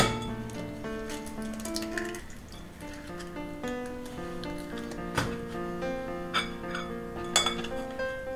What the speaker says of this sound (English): So we've got the egg, the milk, and you're just going to mix them up.